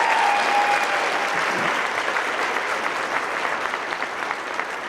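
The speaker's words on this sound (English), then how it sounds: "So let's give Char a round of applause." Sustained applause from an audience at a Women In Trucking awards event, a steady wash of clapping that gradually thins out over several seconds.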